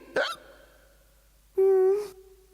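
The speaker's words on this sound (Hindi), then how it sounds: "अगर किसी को हिचकी परेशान करे" A cartoon character hiccups twice in a Ninja Hattori episode: a short squeaky hiccup, a pause, then a longer, louder, tonal hiccup that trails off.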